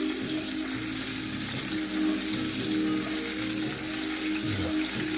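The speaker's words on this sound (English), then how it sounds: "while it's coming to that sizzle right there" Rib eye steak simmering with balsamic broth in a pan makes a continuous, even sizzle and bubbling hiss, close and steady for the whole stretch with no talk.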